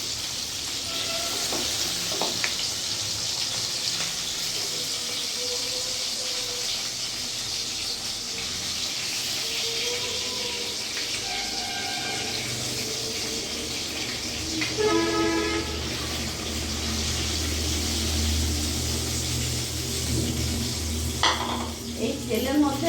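Oil frying in a pan while cooking Bengali hilsa fish curry, with a steady broad sizzle throughout, occasional stirring and utensil scrapes, and a faint voice in the background.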